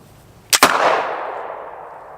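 A water bottle filled with propane and ignited by a spark bursts in one loud, sharp double bang, followed by a long fading rush and ring.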